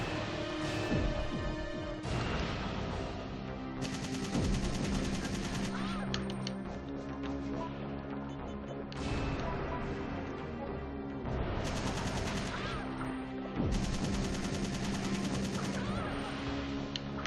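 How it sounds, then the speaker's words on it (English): A super shotgun fires in Resident Evil 3: Nemesis, its heavy blasts recurring every few seconds over loud, continuous game music. "I probably shouldn't be using my super shotgun to hit those acids"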